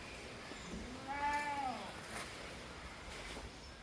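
A single male goat bleats clearly for about a second, a wavering nasal cry over a steady background hum, with no other calls following.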